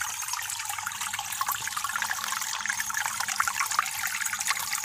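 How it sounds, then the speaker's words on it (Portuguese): A small, thin stream of water trickles at a waterfall, a steady close splashing and babbling that continues throughout without any voices. "Simplesmente o que está correndo de água aqui, ó."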